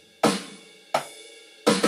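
Sharp snare drum hits on a drum kit ring out one at a time, then as a quick pair at the end, each a bright crack with a short decay.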